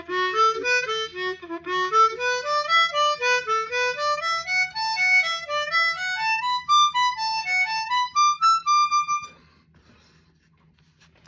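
A blues harmonica plays a scale pattern of four notes up and four notes down, climbing and falling steadily in clean even steps over a faint low hum, then stops abruptly near the end.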